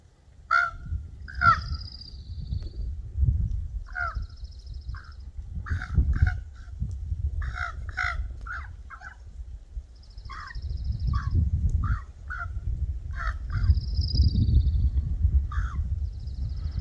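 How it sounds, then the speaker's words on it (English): Ravens calling repeatedly in loud, harsh caws at a bird bath on East Peak of Mount Tamalpais, California, in bursts of several croaks separated by short pauses over steady low wind rumble. "I'm up here at East Peak watching the ravens in the bird bath"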